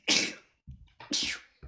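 Two sharp human sneezes close to the mic, each a loud burst with a hissing tail, separated by a brief pause and followed by small breathy sounds.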